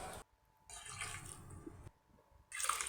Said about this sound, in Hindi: 2 से 3 कप पानी के ऐड करेंगे।